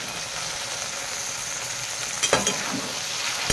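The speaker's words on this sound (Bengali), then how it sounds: "আলুটা ভাজা সুন্দর এভাবে লাল লাল করে ভাজা" Potatoes frying in a pan until browned, a dense continuous hiss of sizzling oil up close, with a couple of brief scrapes of a spatula near the end and no speech.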